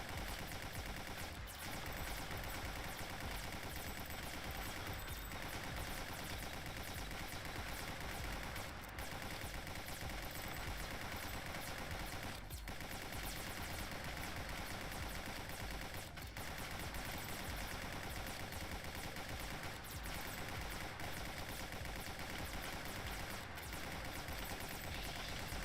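Guns in the blocky shooter Guncraft fire in dense, nearly nonstop rapid bursts, a harsh wall of shots with periodic sharper cracks, loud and unbroken for the whole stretch, with no voices.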